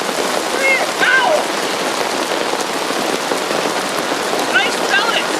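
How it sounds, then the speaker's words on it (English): Hail pellets pour down in a windy prairie storm, a loud, dense patter drumming steadily on surfaces nearby, with excited voices calling out over the clatter. "It's hail!"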